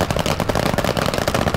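Rapid bursts of blank-firing guns during a staged shootout on a film set, dense rattling machine-gun-like volleys close and loud with no pauses or talk.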